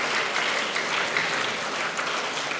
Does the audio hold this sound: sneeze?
no